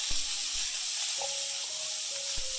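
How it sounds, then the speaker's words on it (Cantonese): Beef short ribs searing in a pot over medium-high heat give off a steady, close hiss of sizzling fat that runs the whole time, with a few soft knocks and a faint tone underneath. "嗱，我哋煎咗一邊先，初頭放落去咧，唔好喐住"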